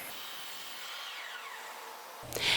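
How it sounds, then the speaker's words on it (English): A miter saw set to 45 degrees cuts through wood: a loud, whining blade and motor sound close by, ending with a sharp burst as the cut finishes. "Now let's go ahead and set this at a 45 degree miter and make that cut."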